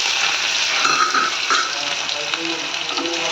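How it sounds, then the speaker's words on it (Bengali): Chopped onion fries in hot oil in a pan, a loud, continuous close-up sizzle with a crackling hiss that runs throughout with little change. "এবার দিয়ে দেবো আমি অর্ধেক পেঁয়াজ কুচিটা।"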